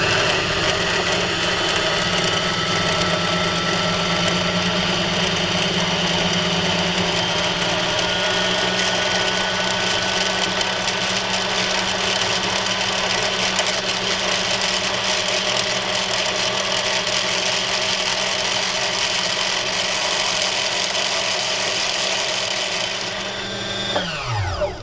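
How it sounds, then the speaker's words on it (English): A mechanical sewing machine runs steadily with its hand wheel pulled out to disengage the clutch, giving a continuous loud motor whir and hum for about 24 seconds before the pitch drops and it winds down at the end. "I'm going to pull out the hand wheel to disengage the clutch"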